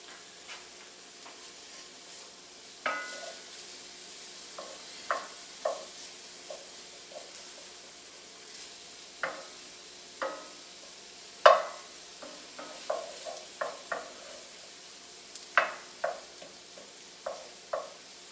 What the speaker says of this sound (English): It is sizzling in there